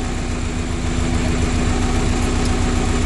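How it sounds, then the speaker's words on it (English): A VW T25 Vanagon engine runs at a steady idle, a loud, close, continuous low rumble with a constant humming tone and even vibration throughout, with no voices. "I love the sound of these engines."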